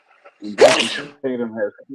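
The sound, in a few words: sneeze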